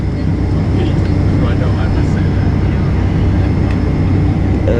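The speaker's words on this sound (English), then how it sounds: "You see now 2 jets coming in for almost simultaneous landing" Steady, loud roar of two jets, a United narrow-body A319 among them, coming in to land almost together at an airport, a broad continuous rumble with faint voices in the background.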